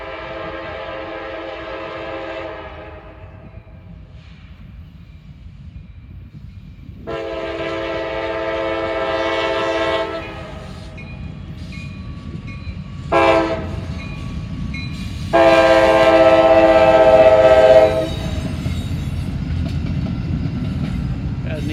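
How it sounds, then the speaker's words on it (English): A coal drag freight train led by an EMD locomotive with GE units behind, heading east on the B&O line, sounds repeated horn blasts over a continuous rolling rumble and wheel noise, some blasts long, others short. "We got a train coming off the Big 4, the former Conrail line from Crestline area, and he's heading east on the B&O"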